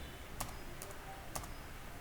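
Quiet clicks of typing on a computer keyboard while logging in as admin, a few sharp keystrokes in small clusters against a faint background hiss.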